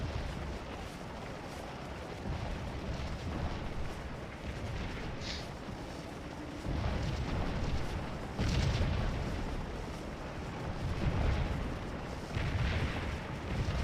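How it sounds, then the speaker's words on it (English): Rebel artillery in a Gettysburg battle video game, firing on troops in Charleston Woods: a continuous low rumble of distant cannon fire with repeated heavy booms swelling through it. "That rebel artillery blasting us out of Charleston Woods"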